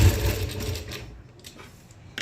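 A sewing machine stitching a finishing seam on a simple cloth bag, a close mechanical whirring run that slows and fades into quieter handling noises before a brief final burst.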